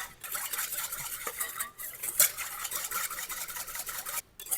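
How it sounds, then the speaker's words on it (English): A whisk scrapes and clinks steadily in a bowl of honey, lime and cilantro vinaigrette ingredients before any oil is added, a continuous close rasping stir with small metallic ticks and no talking. "take these ingredients before the oil goes in and just give it a nice whisk"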